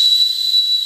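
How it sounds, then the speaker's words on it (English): A single shrill, piercing blast from a survival paracord bracelet whistle, held steady for about a second, loud and close. "Oh, it's got a whistle on the end."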